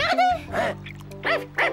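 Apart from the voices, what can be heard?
dog barking and whimpering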